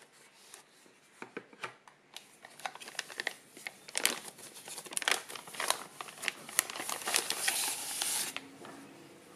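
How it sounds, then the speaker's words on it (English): Plastic bag being pulled off a Zyxel XGS1250-12 multi-gigabit network switch, with close, continuous crinkling and rustling and scattered sharp crackles that build toward the end, with no voices. "Now, let's remove the plastic bag and take a closer look at the switch."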